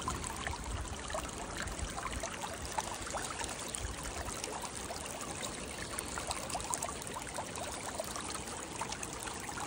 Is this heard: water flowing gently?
yes